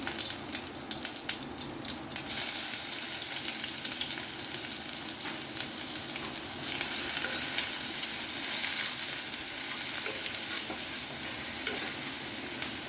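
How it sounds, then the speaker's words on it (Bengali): Chopped onion hits hot oil in a home kitchen pan, a loud crackling burst at first that settles into a continuous close sizzle with stirring scrapes. "পেঁয়াজ কাটাটা দিলাম"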